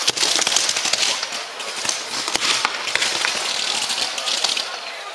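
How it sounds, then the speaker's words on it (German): Rapid, irregular cracks and pops like backfire bangs from the turbos of a roaring 17-litre truck engine at a truck pulling event, loud and close, coming in dense bursts. "Das Knallen ist natürlich nicht normal aus den Turbos."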